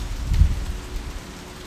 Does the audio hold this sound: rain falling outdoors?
yes